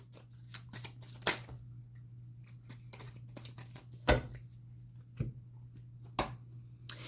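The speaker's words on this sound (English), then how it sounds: "let's get some oracle cards" Deck of oracle cards handled and shuffled indoors, giving a series of soft irregular riffling snaps and taps, fairly quiet over a low steady hum.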